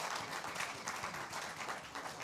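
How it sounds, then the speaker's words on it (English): A conference audience at a plenary session applauds three panelists with a faint, steady wash of clapping from across the room. "Can we just give a round of applause to the three panelists?"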